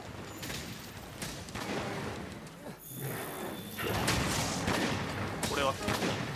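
Gunlance shelling attacks in Monster Hunter World against a Great Jagras, a series of loud mechanical gunfire-like blasts and metallic clanks amid game noise, with someone talking in Japanese over them.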